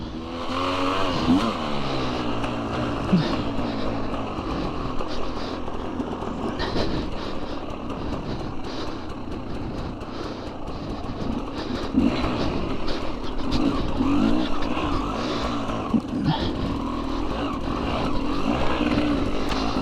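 KTM 300XC-W two-stroke dirt bike on a trail ride, its engine droning and revving continuously and close up with a raspy, buzzing tone, rising and falling with throttle over rough ground and no talking.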